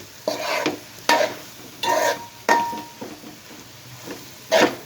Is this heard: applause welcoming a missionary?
no